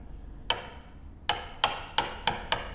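A mallet strikes a chisel into hardwood to cut halfway through a wooden hinge joint, six sharp, close knocks, the first alone and the rest coming in a quicker, fairly even rhythm.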